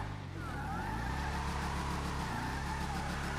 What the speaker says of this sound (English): Whoa, this thing skids out if you don't...